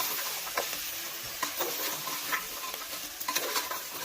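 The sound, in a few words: stirring spices into trotter curry in a pan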